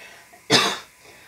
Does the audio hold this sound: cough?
yes